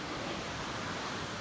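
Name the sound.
waves on Jomtien Beach, Pattaya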